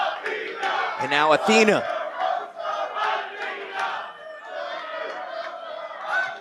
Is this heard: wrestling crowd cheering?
yes